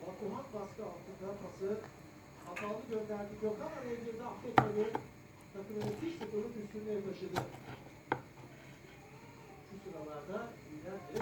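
Occasional sharp knife strikes chopping strawberries on a board cut through continuous talking, just a couple of distinct chops spread across the stretch.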